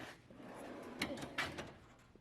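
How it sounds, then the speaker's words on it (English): A slow-close drawer on a matte black Husky 80-inch heavy-duty toolbox with hutch glides shut, giving a soft sliding rush and two gentle muted bumps near the mic, with no talk. "It's got the slow close drawers."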